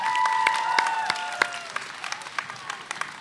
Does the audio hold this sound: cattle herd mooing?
no